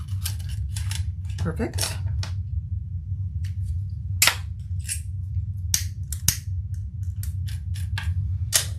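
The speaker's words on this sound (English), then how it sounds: "So I cut my zipper tape" Scissors snip through zipper tape during a sewing session, a series of short crisp cuts in quick succession, close and clear over a steady low hum, with a brief spoken word from a person.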